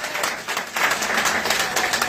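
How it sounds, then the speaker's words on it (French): A church congregation claps and cheers together in a dense, continuous wash of applause that swells after a brief softer start, with some voices mixed into the crowd noise. "On applaudit, on acclame Jésus ça à soi"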